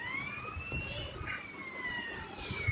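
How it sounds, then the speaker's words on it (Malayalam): A police car siren wails in long, slowly sweeping tones, steady and moderately distant through background street noise, with a brief brighter burst near the end. "സൈറൺ ഇട്ടിട്ടുണ്ട് പോയിക്കോ"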